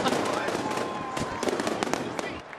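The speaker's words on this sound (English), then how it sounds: "Those are fireworks." Fireworks go off at a Pirates vs Reds baseball game after a home run, a rapid crackle of pops and bangs over a dense, roaring stadium crowd, with talk mixed in.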